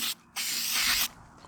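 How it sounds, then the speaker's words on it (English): Two hissing bursts from a can of Flex Tape adhesive remover, a short one followed by a longer spray lasting under a second, close up. "spray this on there."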